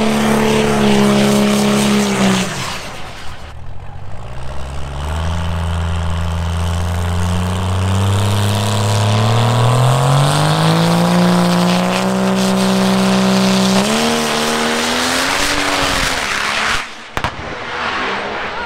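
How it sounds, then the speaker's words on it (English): Drag racing cars roar at a race event, a loud sustained engine howl with pitch sweeping up through long runs, broken by brief gaps and a sharp bang near the end. "we're watching the drags right now"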